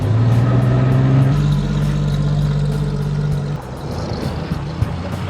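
An old car that needs restoration runs with a steady, close engine hum, then the note drops and settles to a lower idle. There is no talking.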